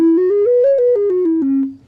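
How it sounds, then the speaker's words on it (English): Single melodic flute line on the regular side of a Native American drone flute, stepping up then back down through several breathy held notes, close and alone, fading at the end. "The right side is a regular flute."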